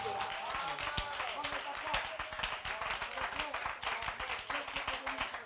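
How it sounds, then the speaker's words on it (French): Church congregation clapping in praise of the Lord, an irregular rattle of many hands mixed with voices and cheers, moderately quiet and sustained. "Acclamons le Seigneur"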